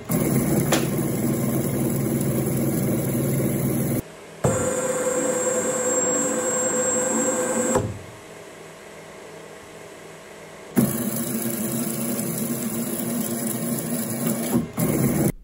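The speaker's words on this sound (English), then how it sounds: "the reciprocating screw will fill the injection chamber with plastic, the molds will close to their predetermined position" Homemade desktop plastic injection machine with two 3-horsepower motors running an automatic injection cycle: a steady mechanical hum and whir that stops, shifts to a different tone, drops to near quiet, then resumes.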